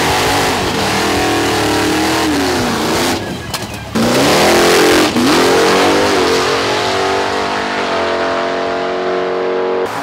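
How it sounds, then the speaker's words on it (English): Drag racing car at Atco Dragway, a loud, close engine revving hard and rising in pitch, briefly dropping off before roaring again with sustained high-revving drone at night testing. "Testing continued into the night, with racers pushing their cars to the limits."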